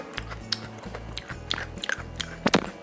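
Close, loud crunching as someone bites and chews crispy battered, deep-fried hummingbird tree (Sesbania) flowers, with several sharp crackling bites in quick succession.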